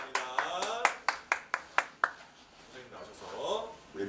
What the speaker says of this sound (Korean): 우리 함께 감사의 박수 올리겠습니다